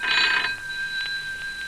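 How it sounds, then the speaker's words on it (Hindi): Telephone ringing in a radio play, an electronic ring with a sustained tone and short repeated bursts, fairly close and clear with no talk over it. "ये किसका फोन आ गया?"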